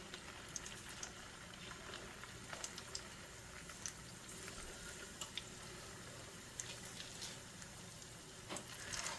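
Salmon fish balls frying in hot oil in a pan, a continuous quiet sizzle and bubbling with scattered small pops and crackles.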